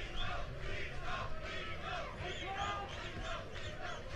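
A French crowd at a paintball match in Chantilly cheers and shouts in a dense, continuous roar of many voices, steady and moderately loud, without clear individual words.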